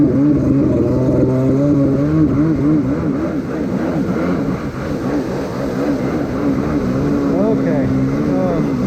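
Kawasaki X2 jet ski fitted with Mikuni SBN 44 carburetors, its engine revving loudly up and down in wavering pitch sweeps throughout, with voices talking over it.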